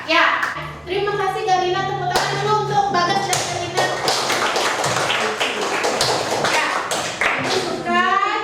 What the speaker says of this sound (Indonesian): tepuk tangan dulu untuk Bagas dan Galina